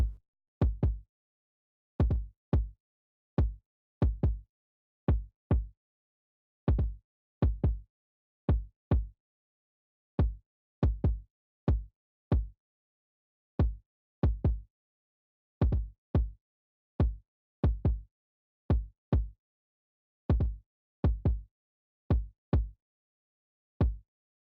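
Soloed kick drum from a drum mix, struck alone in an irregular pattern of single and paired hits, about two dozen punchy low thumps with sharp clicky attacks and quick decays, no other instruments.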